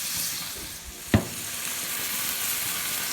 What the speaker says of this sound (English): Man, that sizzle is really kicking in now.